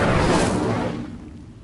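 The Incendio fire spell in Hogwarts Legacy erupts as a loud whooshing burst of flame that swells briefly, then fades away within about a second and a half.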